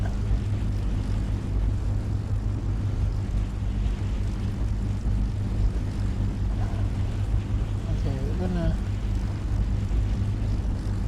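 Steady, loud droning of Halifax bomber engines in War Thunder runs unbroken through the whole stretch, with a voice speaking briefly over it.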